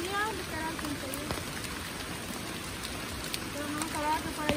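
Steady rain falls outdoors on a rainy day around early November, a continuous soft hiss with scattered drop taps, while voices talk faintly over it.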